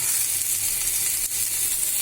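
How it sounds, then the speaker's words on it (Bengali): Rohu fish bharta mixture fries in a pan with a steady, dense sizzle and hiss throughout, close and even in level with only a brief dip. "এবার আমি এটাকে ভালো করে ভাজবো।"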